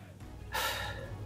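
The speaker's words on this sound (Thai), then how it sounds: "แล้วถอนหายใจออกด้วยนะ" One strong, audible exhale of breath lasts about a second, close to the microphone, as a person does a back exercise, with no other sound.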